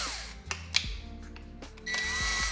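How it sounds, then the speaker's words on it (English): Power drill boring a big hole in wood for a cat bookshelf build, a whirring motor that starts, stops and restarts in short bursts with sharp clicks, close and loud. "I'm gonna drill a really big hole to get the blade into"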